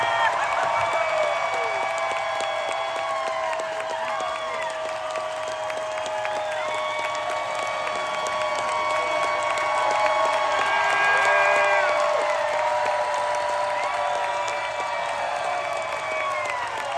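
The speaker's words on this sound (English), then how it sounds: "I want to hear like a big round of applause" A concert crowd applauds and cheers a drummer at a show, with sustained loud clapping and whoops lasting the whole stretch. Feedback-like sustained tones hang above the crowd, and the applause swells near the middle.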